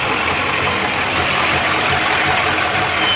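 A rebuilt Chevrolet Trailblazer SS 6.0 V8 runs on its first start, a steady, fairly loud broadband engine rumble with a low idle pulse, close by and without talk.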